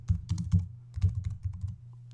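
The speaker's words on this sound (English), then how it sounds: "I'm going to type in Paul Melrose." Fingers type on a computer keyboard: a quick, close run of light clicking keystrokes over about two seconds, irregular in rhythm and fairly soft, with no voices.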